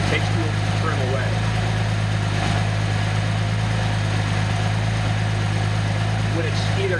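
A Nissan 280ZX turbo engine idles steadily on a test stand, a loud, constant low hum with a faint periodic pulse, running alone throughout.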